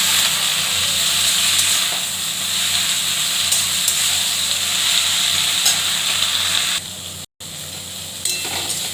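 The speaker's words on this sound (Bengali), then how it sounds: "ভাজছি।" Kharkol leaves with green chillies and black cumin sizzle steadily in hot oil in a pan, a continuous close frying hiss with a brief break near the end.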